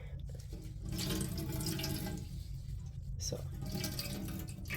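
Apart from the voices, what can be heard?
water draining from squeezed dyed yarn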